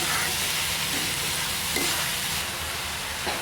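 Vegetable Manchurian mixture with cabbage frying in hot oil, a steady broadband sizzle that holds throughout, with a few faint stirring scrapes and no talking.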